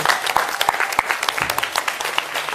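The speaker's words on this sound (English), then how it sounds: "Okay, applause." Audience applause at a Dhamma workshop for an international school, a dense run of many hands clapping with sharp overlapping claps, fairly close and steady for the whole stretch.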